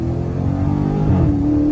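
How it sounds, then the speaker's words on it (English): A widebody Dodge Challenger Scat Pack in track mode drops through downshifts, its engine growling loud and close with a steady low rumble and revs climbing near the end, no talk. "Get some downshifts real quick. Bro, these downshifts are crazy."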